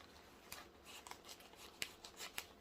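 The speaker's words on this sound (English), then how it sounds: "I need better scissors." Scissors snip through plant packaging paper in a quiet room, several short crisp cuts spaced irregularly, faint and close with no talking.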